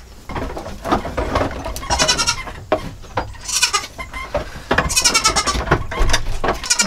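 Several goat bleats ring out over a busy barn backdrop at milking stanchions, loud and close, with bursts of rough, wavering cries separated by brief pauses.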